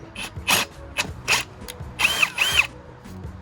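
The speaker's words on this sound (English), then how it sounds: "I want to countersink these, so I'm going to use a nice big bit. Drill that out" A power drill whines in short bursts, stopping and starting several times as a large bit countersinks holes, with grinding and ratcheting noise between pulses.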